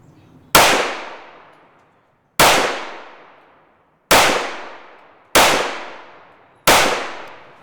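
Five loud, sharp pistol shots of Winchester frangible ammo fired at a steady pace about 1.5 seconds apart, each crack ringing out and decaying, with no talk.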